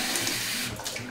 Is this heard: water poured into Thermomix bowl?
yes